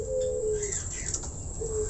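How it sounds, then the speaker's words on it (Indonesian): Caged starlings, jalak suren and jalak putih, give clear sliding whistles and chattering calls, close and steady, with no voices. "kenapa saya taruh di sini burung-burung saya semua jalak nih"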